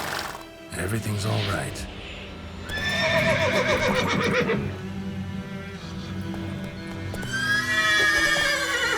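Roach the horse in The Witcher 3 whinnies in several bright, wavering neighs over clip-clopping hooves, close and loud, while someone speaks briefly.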